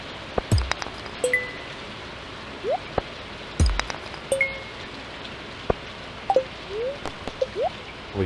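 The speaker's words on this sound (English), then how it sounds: "The rain has ceased to sound like rain and sort of just sounds like static to me all of a sudden." Steady rain hisses in a video game, overlaid with scattered clicks, soft thuds and brief chiming or sliding electronic blips from game effects.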